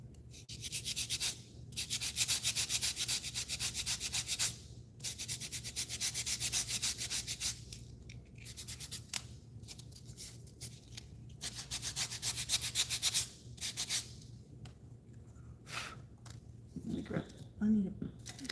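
Sandpaper rubbing over a piece of glued wood in long back-and-forth strokes, a steady loud scratchy rasp in bursts with short pauses, ending with a brief voice.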